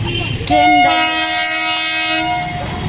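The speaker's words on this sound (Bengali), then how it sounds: "ট্রেনের আওয়াজ শুনলে মনে হয় যেন গায়ের ওপর দিয়ে আসবে" A train at a railway level crossing sounds its horn in a loud, sustained tonal blast that holds for about two seconds close by, with rail rumble underneath.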